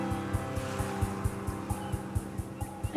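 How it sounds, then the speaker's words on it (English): A boat approaches off an island shore, its engine giving a steady low drone with rapid regular thumping pulses, moderately distant and rising slightly toward the end. "I can hear a boat."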